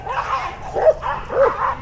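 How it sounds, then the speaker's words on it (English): Several dogs scuffling with repeated yips, whimpers and sharp barks, close and loud across the whole stretch, with a woman reacting in the background during a van interview. "We got a dogfight breaking out."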